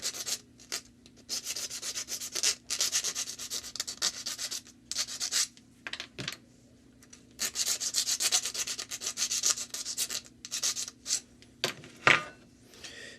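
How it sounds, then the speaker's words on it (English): A metal file scrapes burrs off small round metal pieces, with repeated short rasping strokes in uneven bursts and brief pauses, close and fairly loud, with an occasional light clink. "Take the file and just once over. Nothing fancy, you just want to move the little burrs."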